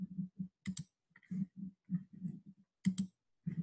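A computer mouse clicks a few times during a walkthrough of the Mahara web software, giving quiet, sharp clicks spaced apart against a near-silent room.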